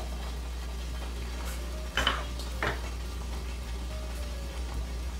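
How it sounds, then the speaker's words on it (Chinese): A steamer pot lid lifts off over boiling water in a home kitchen, giving two short metallic clanks against a steady background hum. "水烧开了以后，掀开盖子"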